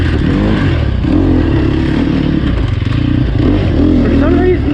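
A Sherco SEF300 dirt bike runs in third gear on a test ride at Crow Canyon, its engine a steady, loud drone close to the rider. A voice speaks over it at times.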